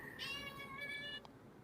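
A black cat gives a single drawn-out meow, clear and close in a quiet room, with a brief faint sound after it.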